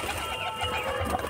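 A domestic pigeon coos in a brief, low, throaty call at close range, with faint bird rustling around it.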